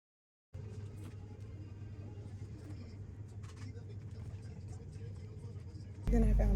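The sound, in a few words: car driving on road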